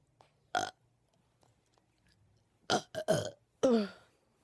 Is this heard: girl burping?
yes